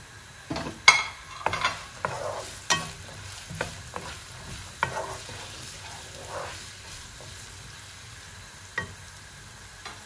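Finely chopped onions going into hot oil, quiet frying beneath a run of close scraping and tapping stir strokes that come thick early on and thin out into a soft hiss.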